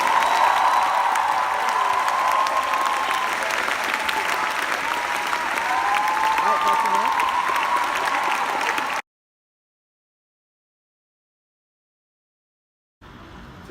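A large audience at a World Scholars Cup ceremony bursts into sustained applause for about nine seconds, dense clapping with some cheering, then the sound cuts to silence before a faint return.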